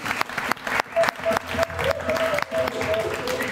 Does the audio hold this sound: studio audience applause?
yes